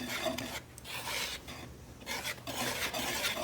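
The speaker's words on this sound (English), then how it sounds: "you whisk these dry ingredients together until they're just nice and" A whisk scrapes and swishes through dry ingredients, including salt, in a bowl, producing rhythmic gritty rasping strokes up close with brief pauses between bursts.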